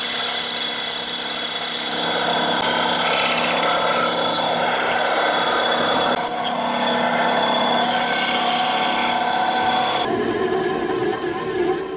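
Continuous loud rasping and rubbing as a diving lip for a 4.5-inch musky lure is rough-cut, a steady abrasive scrape running for about ten seconds before stopping abruptly.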